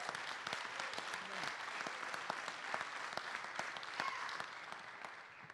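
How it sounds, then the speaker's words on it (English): Steady applause fills a city council meeting chamber as the room honors a youth Little League all-star team, a dense, continuous patter of many hands at moderate distance. "That deserves a round of applause."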